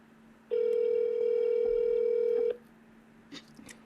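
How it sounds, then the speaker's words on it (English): A single steady telephone tone, like a ringback or dial tone, sounds for about two seconds while a call is placed. Faint clicks follow it in otherwise quiet surroundings. "We're going to call him real quick."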